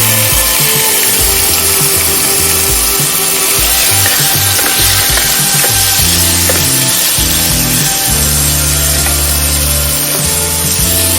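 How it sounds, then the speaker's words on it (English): Marinated prawns for a Goan-style spicy prawn pickle frying in heated oil in a pan, a loud continuous crackling sizzle with scraping and clattering stirring throughout, no talk. "Here I have heated oil in a pan. Let's add the marinated prawns to it."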